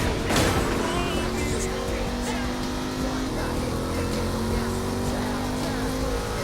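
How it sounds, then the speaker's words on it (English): A car driving in the video game Saints Row the Third, its engine droning steadily with tonal whines that rise and fall as it speeds along, loud and close throughout, with a voice talking over it. "I know we're in a moving vehicle"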